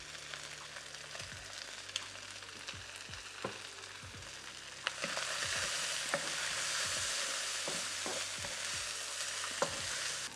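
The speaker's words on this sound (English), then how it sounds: "when we're frying up the beef" Beef frying in a wok with oil for Mongolian beef, a steady sizzle that jumps louder halfway through as more goes in, punctuated by repeated clacks and scrapes of stirring, no talking.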